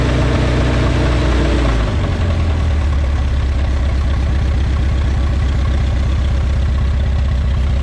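A World War II Willys jeep engine, run after years of sitting, revs and then settles into a loud, steady low idle with an even pulsing beat, recorded close up.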